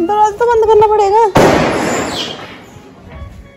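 A firecracker bursts indoors after voices chatter, giving one loud sharp bang with a hissing, crackling tail that fades over the next two seconds.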